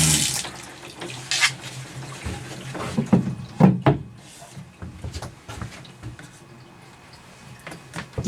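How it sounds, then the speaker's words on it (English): Water runs from an RV sink tap fed by a water pump, a steady rushing stream close by with a few knocks and clunks, and no talk over it. "So now I can just come to the sink, turn on the water, and it's water pressure just like your sink at home."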